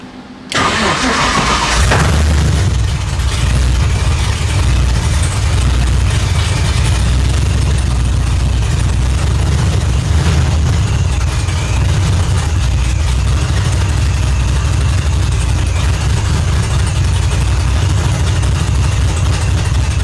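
A modified ute's engine cranks, catches and settles into a loud, steady, rumbling idle that continues close by without a break.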